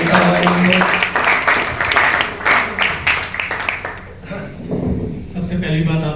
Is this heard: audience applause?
yes